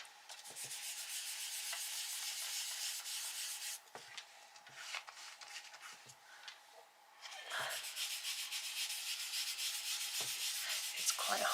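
Pastel being rubbed hard into paper, a soft dry scratchy friction in quiet back-and-forth bursts with short pauses between strokes, close and gentle.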